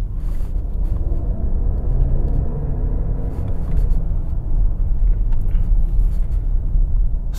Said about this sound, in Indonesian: Dan di mobil ini ada namanya Rolls-Royce Sound.